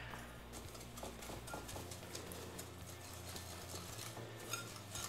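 A whisk beats five eggs with a cup and a half of sugar in a bowl, a steady, rapid run of soft clicks and scrapes lasting throughout, close and without talk.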